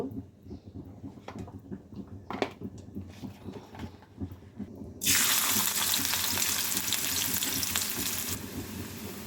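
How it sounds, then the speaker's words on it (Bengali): Onion and garlic drop into hot oil in a kadai, setting off a sudden loud, broad sizzle that holds steady and slowly fades, after quieter scraping and clinking sounds. "এখন এর মধ্যে আমি পেঁয়াজ আর রসুন দিয়ে দিব।"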